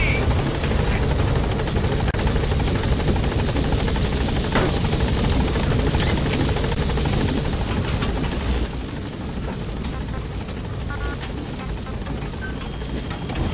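Pequod, the support helicopter in Metal Gear Solid V: The Phantom Pain, arrives on station with a loud, steady rotor and engine drone that continues throughout and eases slightly toward the end.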